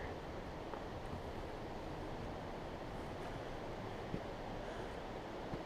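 Steady, dense broadband rush of the Fossil Creek waterfall, a continuous roar filling the whole clip with no talk over it.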